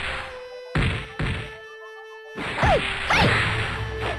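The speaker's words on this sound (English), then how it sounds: "Punch and kick sound effects have great punch and sound painful." Punch and kick effects from the fighting game Real Bout Fatal Fury Special, a run of sharp whooshing swipes and thwacking hits with a brief silent gap, ending in a denser burst of swishes and impacts.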